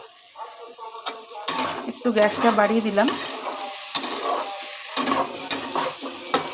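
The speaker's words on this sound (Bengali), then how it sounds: "এবার আলুর সাথে ঢ্যাঁড়সগুলো একসঙ্গে ভাজা ভাজা করব" Okra and potatoes sizzle and crackle in a hot pan while a spoon stirs and scrapes with sharp clinks; a person speaks briefly over the frying.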